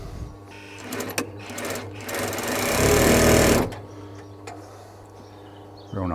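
A 1960s Singer 366K225 industrial sewing machine runs steadily, its motor humming with a rapid mechanical rattle that swells louder and rougher mid-run, then eases back to a quieter idle hum, close and without talk.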